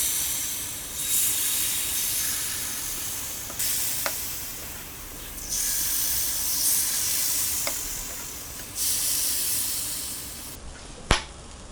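Appam batter sizzles in hot oil in a paniyaram pan, a steady frying hiss that swells and fades in bursts, with a few sharp clicks, and no talking.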